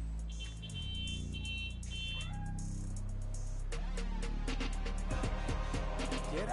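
A cat meows in Spider-Man: Miles Morales, with tonal mews and caterwaul-like calls over game music and ambient city sound, followed by sharper clicks and electronic noises.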